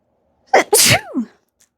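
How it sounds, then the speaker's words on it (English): A single loud, close sneeze bursts out sharply and then trails off, with no talking around it. "And now I have to sneeze."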